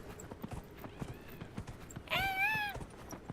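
A horse's hooves clip-clop at a steady walking rhythm in Dragon Age: Inquisition, fairly quiet, with a brief whinny rising partway through.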